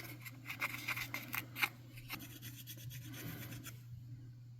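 Burnishing tool rubbed over the softened corners of a hand-carved wooden spoon, a quiet series of short scraping, rasping strokes in quick succession that fade toward the end, no voices.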